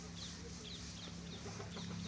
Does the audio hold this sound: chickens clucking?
yes